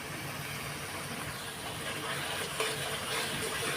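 Curry being sautéed in a wok, a low steady sizzle with soft stirring scrapes and a faint hum beneath, moderately quiet and continuous with no talking.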